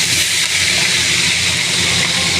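Onions dropped into a hot pan with ginger paste and green chilies, giving a steady, loud, broadband sizzle that hisses on without a break while kabuli rice is being cooked.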